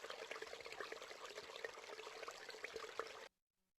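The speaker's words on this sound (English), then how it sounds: "families like this accidentally leave faucets running" A household faucet left running pours a steady, faint stream of water for about three seconds, then stops abruptly into silence.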